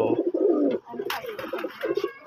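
Several domestic pigeons kept together in a loft give soft, low cooing calls close by, in short repeated bursts with brief pauses between.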